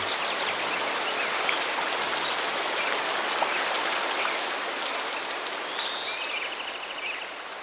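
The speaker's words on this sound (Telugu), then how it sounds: "బయట చాలా పెద్ద వర్షం పడుతోంది" Heavy rain falls outside in a steady, dense hiss that holds at the same level throughout, with no voices over it.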